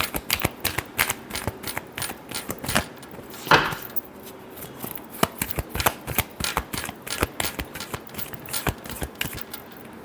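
Tarot cards being shuffled by hand, a quick close run of crisp flicks and light slaps in irregular bursts, with no talking over them.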